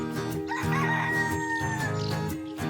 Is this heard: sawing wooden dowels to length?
no